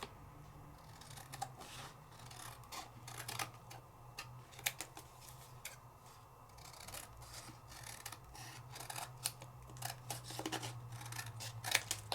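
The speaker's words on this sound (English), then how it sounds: "And I can trim it out now." Scissors trimming paper during a papercraft class, giving a steady run of soft snips and rustles for about twelve seconds over a low background hum. Quiet and close, with no voices.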